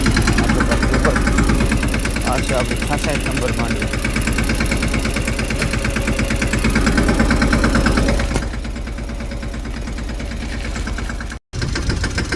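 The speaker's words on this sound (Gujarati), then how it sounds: "ટ્રેક્ટર" A farm tractor engine idles close by in a steady low throbbing rumble for about eight seconds, then drops to a quieter hum, with someone speaking over it.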